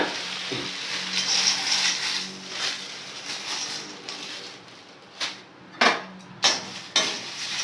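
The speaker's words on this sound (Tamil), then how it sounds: "பாருங்க மிளகாய் நல்லா வறுத்தாச்சு" Two measures of dried red chillies dry-roast in a pan for Kongu-style kuzhambu chilli powder, giving a steady dry rustling crackle with stirring scrapes and several sharp clacks toward the end.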